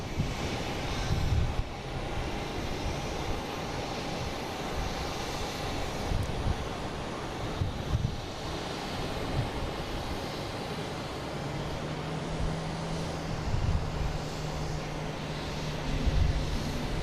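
American Airlines flight 4738 from Wilmington lands at Boston Logan International Airport, a steady broad jet roar with wind buffeting the microphone and a low droning tone creeping in near the end.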